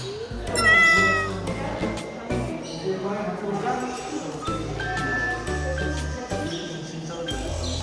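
Cat meowing at a farm petting zoo, several plaintive meows close by with faint jingling, while a small child and a parent talk over them.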